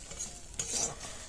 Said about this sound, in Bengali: সব কিছু গুঁড়ো মশলা দিয়ে আমরা এটিকে ভালো করে মিশিয়ে নেব।